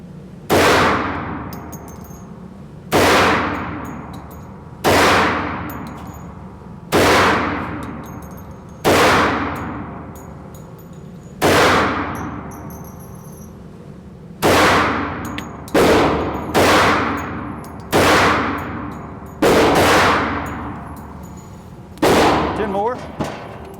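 A Hi-Point 1095TS 10mm carbine fired at an outdoor range: about a dozen loud, sharp reports, spaced a couple of seconds apart early, then coming quicker near the end, each ringing briefly before fading.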